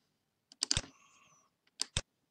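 Sparse, crisp clicks from a computer keyboard and mouse in small bursts while using LightBurn software, close and quiet against near silence, with a faint electronic whine between.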